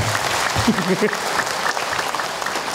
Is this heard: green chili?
no